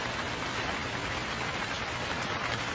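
Steady rain in a Hindi cartoon falls on a surface, a dense, even hiss of drops with no breaks or voices.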